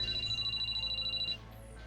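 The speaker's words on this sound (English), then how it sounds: "Then Shirabe's cell phone rang." A cell phone rings in the visual novel game Sweet Fuse: At Your Side, a rapid, evenly pulsing electronic trill that repeats steadily for over a second and then cuts off, heard alone over a low background hum.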